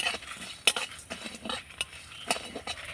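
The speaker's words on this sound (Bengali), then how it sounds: "শুকনো খোলায় একটু নাড়াচাড়া করে ভেজে নেব।" Dried chillies and peppercorns are dry-roasted in a pan with no oil, for a mango pickle. A utensil stirs and scrapes in short irregular strokes with light clinks, close and fairly quiet.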